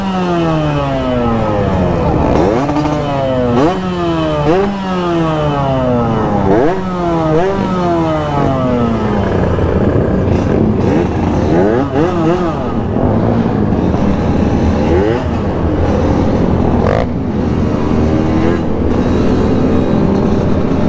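Two-stroke Yamaha RX-King motorcycles setting off on a group touring ride from Makassar toward Kendari, engines loud and close, revving repeatedly in rising and falling sweeps, with several bikes overlapping and a steady roar underneath.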